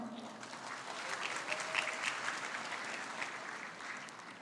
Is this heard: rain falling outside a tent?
no